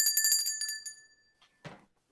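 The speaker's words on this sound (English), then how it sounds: "We rung the bell." A bell rung during a baseball podcast sounds as a rapid series of bright metallic dings that ring on and fade, followed by a brief soft knock.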